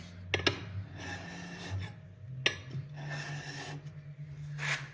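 A diamond stone rubs the burr off the edge of a slick chisel, sharp scraping strokes repeating at an uneven rhythm, close and fairly quiet, with soft rasping between the strokes.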